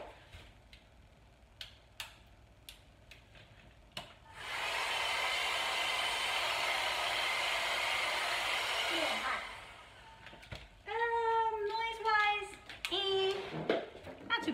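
A hair dryer from a summer subscription box is switched on and runs as a steady, loud, even whoosh for about five seconds before cutting off, with scattered clicks and handling noises before it and a voice speaking afterward.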